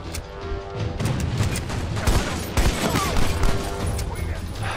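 Gunfire rattles through a Army of Two: The Devil's Cartel firefight, dense bursts and booms overlapping in rapid, loud succession, with a voice talking over the shooting.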